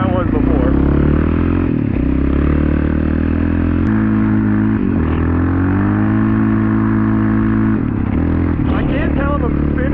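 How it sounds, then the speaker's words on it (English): A Yamaha Raptor 700R ATV engine revving hard and sustained with a slipping clutch, loud and close with a steady droning tone that shifts in pitch. Wind and clatter run through it. "I can't tell if I'm spinning or if my clutch is slipping"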